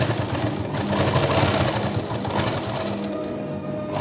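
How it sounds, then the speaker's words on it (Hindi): A sewing machine stitching fabric scraps into a Diwali decoration, a loud, close, continuous mechanical whirr with a fast rhythmic clatter that runs steadily throughout. "बस अब इस पे भी सिलाई लगा दीजिए।"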